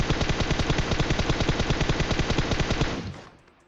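Rapid automatic gunfire in the mobile battle royale game PUBG Mobile, a long, evenly spaced burst of shots at close range that stops abruptly and trails off in the last half second.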